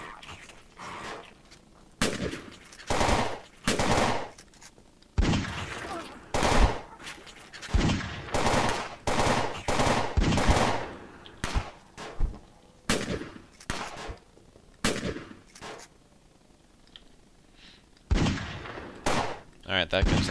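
AK rifle fire in the zombie video game Fort Zombie, repeated sharp bursts and single shots in irregular clusters, loud and punchy with short quiet gaps between volleys.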